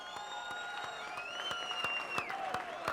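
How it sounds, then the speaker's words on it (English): A boxing crowd at BB King's applauds both fighters after six rounds, a moderate, somewhat distant patter of clapping with scattered sharp claps and faint whistle-like tones over the arena noise. "let's get a nice round of applause out here for both of these fighters"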